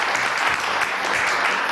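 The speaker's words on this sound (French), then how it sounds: "on applaudit très très fort" A television studio audience claps loudly and steadily for a singer, dense applause filling the space without a break.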